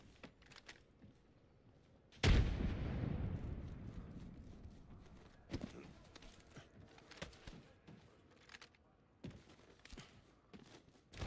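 A frag grenade explodes in a multiplayer shooter game, a single sharp blast whose deep rumble decays over a couple of seconds, followed by scattered footsteps and small impacts at moderate volume.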